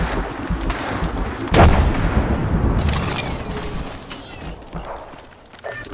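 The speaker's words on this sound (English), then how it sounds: "Grenade deployed." A grenade blast in the video game Apex Legends gives a deep boom with a rumbling tail amid continuous game noise, loud and close, with a few smaller thuds following.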